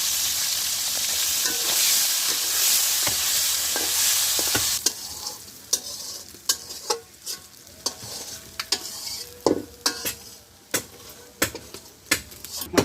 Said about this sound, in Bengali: মাথাগুলো ভাজা হয়ে গেছে